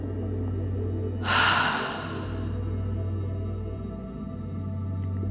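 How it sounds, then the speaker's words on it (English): Deep breathing during a guided breathwork session for grief, with one strong, airy breath around a second in, followed by quieter steady breathing over a constant low hum. "Keep breathing."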